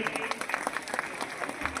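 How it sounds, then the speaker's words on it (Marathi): An audience at a school cultural function claps in a steady stream of close, crisp handclaps that run throughout, with a faint voice beneath them. "तिच्यासाठी टाळ्या झाल्या पाहिजे."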